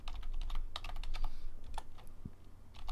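Quick, light keystrokes on a computer keyboard while a password is entered during an Arch Linux installation, clicking in irregular bursts with short pauses, close and fairly quiet.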